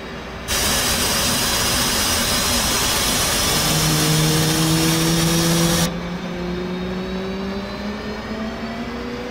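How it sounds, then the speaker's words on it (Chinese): An F/A-18C jet engine spooling up during a cold start in the flight simulator DCS World, a loud steady roar with a rising whine that drops to a lower hum partway through, no voices. "将左侧油门握把从 off 推到 idle 位置，这会将燃油注入发动机并启动点火器"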